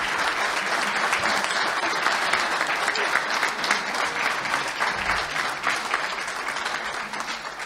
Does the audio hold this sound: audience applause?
yes